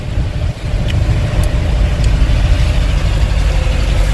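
A vehicle rolls into the Agra toll plaza on an Indian highway, its engine a loud, steady drone with continuous road rumble close by, mixed with faint surrounding traffic and no talking.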